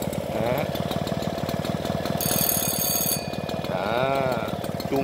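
Original bell on a French-made Mobylette AV44 moped ringing as a steady metallic trill in two bursts, over the close, even putter of the idling engine.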